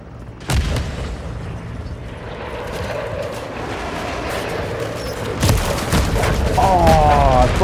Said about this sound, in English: Hostile SAE incoming. Grenade down!